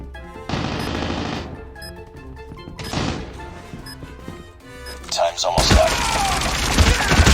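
Type 25 rifle fire in Call of Duty, Bloody Vengeance variant, comes as loud rapid automatic bursts with pauses between. The last burst is a dense, crashing volley, and a voice talks over the shooting.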